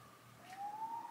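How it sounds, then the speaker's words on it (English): Ambulance siren passing outside an old hospital, a steady tone that rises and grows louder midway through, coming from outside the building. "Can you hear the ambulance?"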